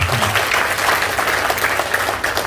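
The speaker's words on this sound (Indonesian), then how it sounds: "Tepuk tangan buat Bapak Ibu." Dense, loud applause from a seated audience at a community financial seminar, continuous and steady for the whole short stretch.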